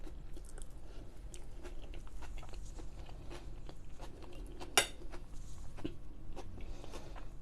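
Someone eats a sausage with cutlery, close-up biting and chewing crunches in a steady rhythm, with one sharp clink of a utensil on the plate partway through.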